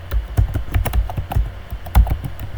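Rapid keystrokes on a computer keyboard as a Python download search is typed, a close, uneven burst of clicks with short pauses and no voices.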